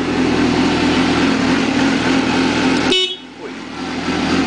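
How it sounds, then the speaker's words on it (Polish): Horn of a 2005 Suzuki GSX-R750 motorcycle with a broken exhaust, a loud steady honk held for about three seconds close by, then cut off with the engine still idling. "no to spróbuj zatrąbić"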